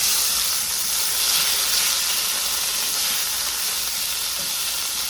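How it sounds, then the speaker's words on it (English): Potato strips fry in a covered pan with a steady, dense sizzling hiss that holds at an even loudness from start to finish. "We're going to kind of fry like French fries, but by having the top on them, we're smothering them, of course."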